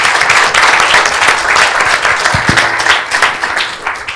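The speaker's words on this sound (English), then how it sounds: "again, a round of applause to our winners" Applause for the winners of a PwC SEE values contest at an awards ceremony, dense and sustained for about four seconds with a few louder individual claps near the front.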